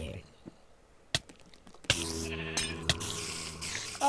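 Sheep bleat a few times in a video game among sharp thuds and digital game sounds, with a faint hum underneath.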